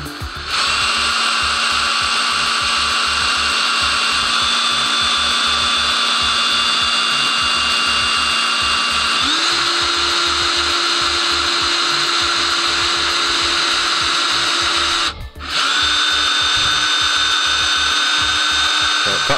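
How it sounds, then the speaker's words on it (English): A power drill bores a pilot hole into the wooden body of a kit guitar, fitted with a depth gauge. The steady, loud motor whine runs continuously, rises in pitch partway through, then briefly cuts out before resuming. "I'm now going to drill out a pilot hole."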